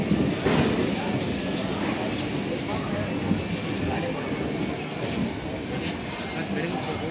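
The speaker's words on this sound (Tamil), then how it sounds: "ட்ரெயின் வந்துருச்சுங்க." A Chennai local commuter train rumbles steadily nearby as it arrives at the station, with broadband rolling noise and a faint high whine, while voices murmur underneath throughout.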